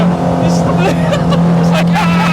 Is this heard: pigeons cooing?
no